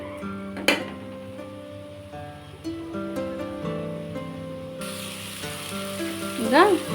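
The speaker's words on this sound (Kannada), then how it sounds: "ಇದು ಒಂದೆರಡು ನಿಮಿಷ ಹೀಗೆ ಬಿಟ್ಬಿಡೋಣ ಫ್ರೈ ಆಗಲಿ" Soya chunks frying in a pan, a steady soft sizzle running throughout with occasional stirring clinks and scrapes, close and moderately loud with no talk.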